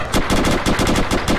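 Rapid automatic gunfire rattles from a machine gun in an ArmA 3 military exercise, bursts of sharp repeated shots at a steady rhythm, loud and close, with no voices.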